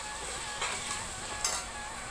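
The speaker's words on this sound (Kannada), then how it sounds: "ಇದಾದಮೇಲೆ ನೆಕ್ಸ್ಟ್ ನಾನು ಒಂದು 2 ಮೀಡಿಯಮ್ ಸೈಜ್ ಕಟ್ ಮಾಡಿ ಟೊಮೊಟೊ ಹಾಕೊಳ್ತಾ ಇದ್ದೀನಿ." Chopped tomatoes fry with onions in a pan, giving a faint, steady sizzle with two soft stirring scrapes, heard close and quiet with no talking.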